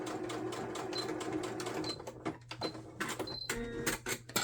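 A sewing machine stitching fabric squares for makeup remover pads, its steady rapid mechanical whir running throughout at close range with a few small clicks, no talking.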